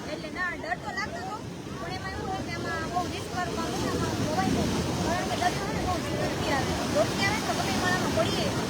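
High sea waves surge against Gomti Ghat in Dwarka during stormy, rainy weather, a steady roaring wash that builds louder, with wind buffeting and people talking over it.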